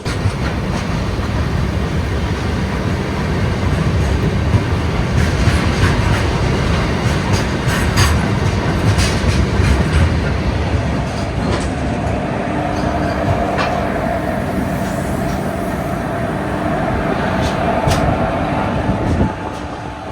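The Shri Ganganagar–Kochuveli Express runs loudly and continuously from Rajasthan toward Kerala, with a dense rumble and rattling wheel clatter throughout and brief metallic clicks near the end.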